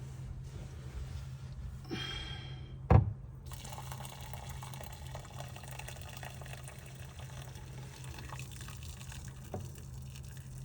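Strained rice water poured into a container, a steady liquid trickle and splash over faint room noise, with a sharp clink near the start.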